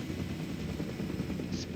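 A helicopter in the video game Jurassic World Evolution 2 makes a steady, low rotor drone that holds at moderate level throughout, with no talk over it.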